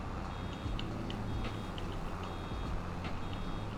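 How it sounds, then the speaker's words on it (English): Warning beeps from a vehicle in the Farming Simulator video game, a few short repeated tones sounding over a steady low engine drone. "I hear a beep sound going off"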